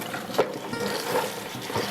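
Pickled cucumbers being rinsed under ice cold water after soaking in salt, a soft steady wash of running water with faint splashes and no talking, close by.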